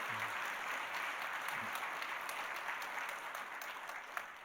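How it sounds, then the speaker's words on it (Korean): Church congregation clapping for the choir after a hymn during a Sunday worship service: steady, fairly faint applause from a large room, sustained and even throughout. "우리 다시 한번 큰 박수로 한번 격려하겠습니다."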